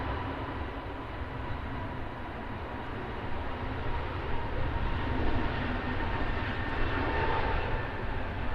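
A Pegasus Airlines airliner passes at Manchester Airport, its steady, loud engine roar holding broadband and even throughout, swelling slightly toward the end with no voices over it.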